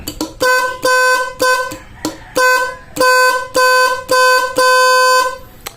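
A loud aftermarket car horn blares in repeated short and long honks, close and piercing, with brief gaps between blasts and no talking.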